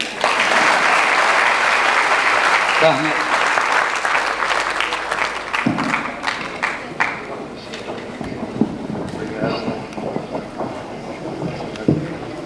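Audience applause at a celebratory gathering honoring a scholar, opening with dense loud clapping that fades into scattered claps, with voices talking over the later part.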